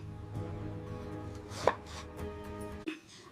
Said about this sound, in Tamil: நல்ல காய்ந்த மாங்காயை எடுத்து சின்ன சின்ன துண்டுகளாக நறுக்கி எடுத்துக்கணும்